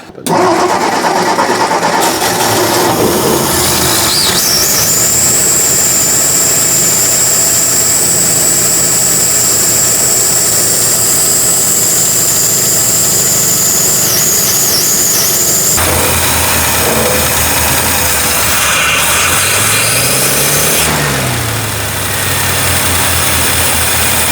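An old Ford F100 truck engine cranks, catches and runs loudly up close with choke trouble. The revs rise and fall, a whining tone holds for several seconds, then the idle shifts to a rougher, lower note.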